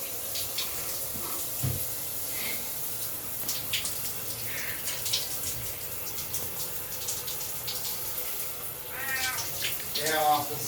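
A cat named Wampus gives a few drawn-out meows while being showered, under steady running water from a tap, with people talking nearby; the clearest meows come near the end.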